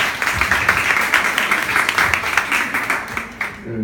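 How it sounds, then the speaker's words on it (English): An audience applauds a host at an evening talk event, with dense, steady clapping that fills the room and holds at an even level for several seconds. "So a big round of applause to Evan, who will be hosting us tonight."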